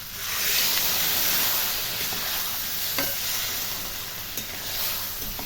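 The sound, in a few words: water added to vegetables cooking in a pan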